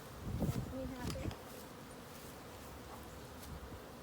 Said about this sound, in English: we open the box up, and there are lots of bees on the top